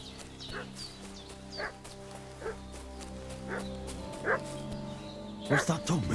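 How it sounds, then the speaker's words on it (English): A dog barks repeatedly in the medieval village world of Kingdom Come: Deliverance II, sharp yips recurring about once a second at mid distance over a steady ambient drone, building to a cluster of louder barks at the end. "What's that dog making such a fuss about?"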